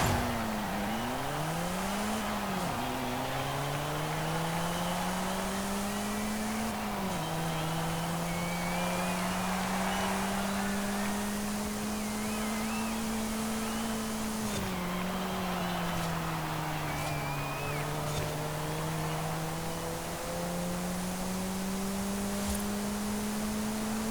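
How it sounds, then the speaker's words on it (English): A turbocharged 1992 Mazda 323 GT-R in Forza Horizon 5, its engine droning loud and steady, pitch dipping at gear changes and rising again as it pulls around a circuit. "I'll let you listen to the engine for a little bit first"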